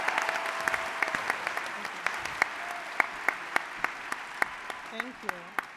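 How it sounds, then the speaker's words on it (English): An audience at a startup competition finals in Buffalo gives a round of applause for a competitor, soft scattered clapping with a few sharp individual claps standing out, while a voice speaks briefly near the end. "I think she deserves a round of applause"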